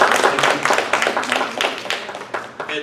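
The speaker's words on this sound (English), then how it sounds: "Can I get a round of applause" An audience at a cannabis business panel event claps for a few seconds, a brisk patter of many hands at moderate loudness, with some talk mixed in.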